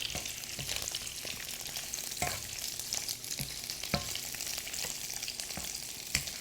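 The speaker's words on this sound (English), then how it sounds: "if we fry the shrimp, it's gonna be a smell more" Shrimp sizzles and crackles steadily in a hot pan for Bangladeshi shrimp fried rice, a dense hiss punctuated by sharper pops and occasional stirring clatter.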